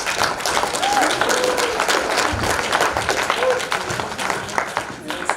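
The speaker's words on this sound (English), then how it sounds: "Hand round of applause, guys." Audience applause at an annual general meeting, dense sustained clapping filling the room, with voices talking through it.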